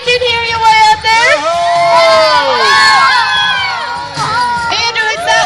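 A crowd at the West Virginia State Fair cheers climbers on, with loud, continuous shouts, whoops and high children's voices rising and falling together.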